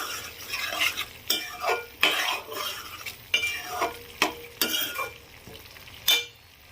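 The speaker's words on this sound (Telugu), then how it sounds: "ఈ పేస్ట్ కూడా మంచిగా ఫ్రై అయ్యేంత వరకు కూడా ఫ్రై చేసుకోవాలి" Tomato paste for a fish curry frying in a pan, a steady soft sizzle broken by repeated scraping strokes of a utensil stirring against the metal, close and unaccompanied by talk.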